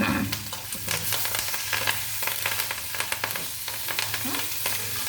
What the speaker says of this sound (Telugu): ఇప్పుడైతే మినపప్పు పప్పు వెళ్ళిపోయింది కరివేపాకు కూడా వేస్తున్నానండి